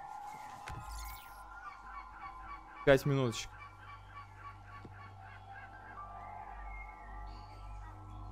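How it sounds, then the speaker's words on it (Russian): Birds call steadily at dawn in the background, with a loud honking burst near the middle and a low hum underneath throughout. "птиц тут просто херовая тьма"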